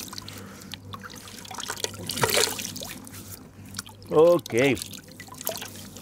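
Water is poured while a beard is being cleaned, with a short trickle and splash in the middle and quiet dripping around it. A person speaks briefly, and voice sounds overlap the later pouring.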